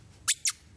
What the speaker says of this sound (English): The first thing is this squeaker ball. It's a Squeaker little squeaky ball, ball that calls the dog to the owner whenever you sound it.